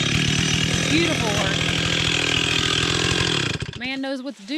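A chainsaw roars loudly at full throttle while cutting through a hickory log, then drops abruptly to a sputtering idle as a person speaks over it.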